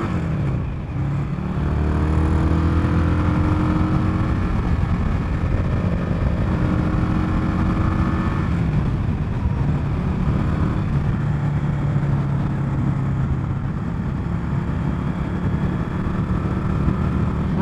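A 2020 Indian Scout Bobber motorcycle engine drones steadily while being ridden, loud and continuous with shifting pitch as the throttle changes, mixed with heavy wind rush.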